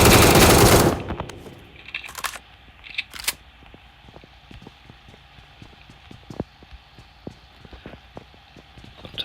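In PUBG Mobile on the Erangel map, a loud burst opens the clip, followed by scattered distant gunshots and quick short reports in an irregular rhythm against faint background game noise.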